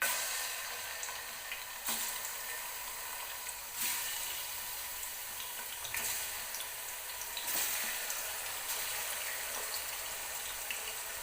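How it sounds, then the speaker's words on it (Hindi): Chicken pieces frying in hot oil, a steady bright sizzle and crackle throughout with a few sharper bursts at intervals, no voices. "अब हम ऑयल हमारा गर्म हो चुका है। अब हम इसके अंदर चिकन को ऐड करेंगे।"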